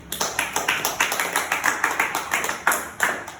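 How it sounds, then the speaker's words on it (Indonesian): Classroom applause for a pupil during a primary school maths lesson, a steady run of rhythmic hand claps from a small group of children, close and fairly loud, with no talking. "tolong berikan aplaus kepada Arya Fandi"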